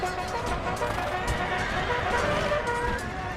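A mass of cavalry horses in Empire: Total War rumbles along in a continuous, muffled hoof patter set against a steady battlefield wash, fairly even in loudness throughout.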